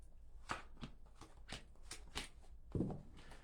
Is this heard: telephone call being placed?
no